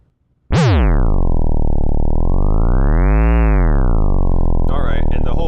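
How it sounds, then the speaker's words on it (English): A synthesized square wave built from 50 odd harmonics plays loud and steady as a buzzy tone, its pitch bending upward and back down in a slow sweep before settling. No one speaks over it. "this will give us our square wave with 50 harmonics"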